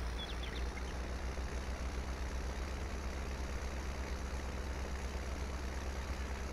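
Underpowered tractor in Farming Simulator 19, hauling a load with a fork attachment on a mountain homestead road: a steady low engine drone at constant loudness, running alone throughout.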